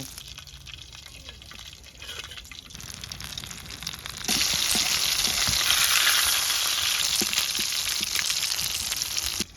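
Fish frying in a pan for an afternoon snack, a soft sizzle that swells abruptly into loud, dense crackling and spitting oil midway, continuing steadily to the end with no voices.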